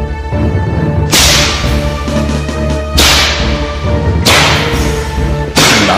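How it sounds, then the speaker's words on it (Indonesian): Four loud, sharp whip cracks at roughly even intervals in a Javanese martial-arts audio drama, each a sudden snapping burst over a steady sustained musical drone. "Namun suara cambuk itu masih juga terdengar sekali lagi dan sekali lagi."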